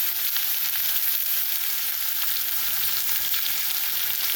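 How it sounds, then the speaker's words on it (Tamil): Half a finely chopped onion fries in oil with cumin seeds and urad dal, the base for an okra dish. It makes an even, close, unbroken sizzle with no voices. "பொரிஞ்ச உடனே சீரகம் போட்டுக்கிறோம். வெங்காயம், பொடிய வெங்காயம் ஒரு அரை வெங்காயம்"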